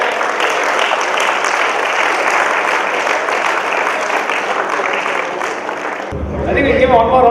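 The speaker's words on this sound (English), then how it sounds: "Give him a big hand." Audience applause for a resident poet at a mother's 94th birth anniversary celebration, steady sustained clapping throughout that fades near the end as other sounds take over.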